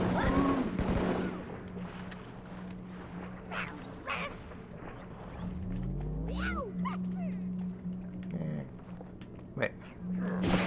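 Battle rifle gunfire in Halo 2 comes in short bursts amid game combat noise and shouting, with someone speaking excitedly over the action.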